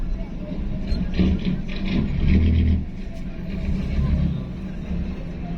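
A motorcycle passes on a street near the old Candaba church in Pampanga in the late afternoon, its engine a steady mid-loud drone that swells briefly and fades amid general street noise.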